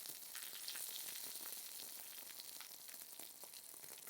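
Dry red chillies and curry leaves sizzle in hot oil for a tempering, a steady close crackle and hiss with small popping bursts and no voices.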